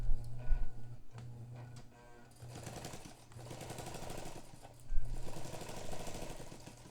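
A 1959 Necchi sewing machine runs slowly under fine needle control, its stitching clatter rising and falling in rhythmic bursts with soft ticking between them, close and clear.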